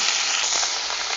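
Onions fry in olive oil for a French onion soup, producing a loud, dense, continuous sizzle and crackle heard up close with no voices.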